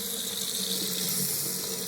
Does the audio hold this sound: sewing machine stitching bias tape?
no